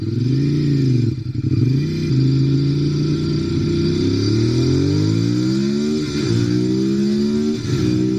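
A 2016 Ducati Monster 821 motorcycle revving in first gear, its engine rising and falling in pitch through several loud, close throttle blips with brief dips between, no voices.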